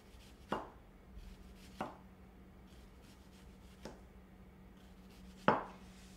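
A knife cuts a whole shallot into thin rings on a cutting board, four separate crisp chops spaced a second or two apart, close and quiet in an otherwise still room.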